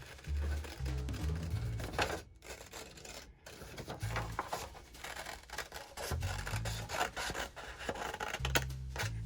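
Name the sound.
cutting paper shape with scissors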